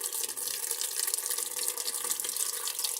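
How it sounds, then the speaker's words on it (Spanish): A Maytag Atlantis washing machine filling with water on a super wash cycle, a steady close hiss of rushing water pouring into the drum with no talk over it. "Y ahí ya empezó a llenar la máquina."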